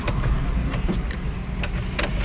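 A dalu pickup truck driven along a road, its engine running as a steady low rumble with faint clicks and rattles from the cab, near and continuous, with no voices.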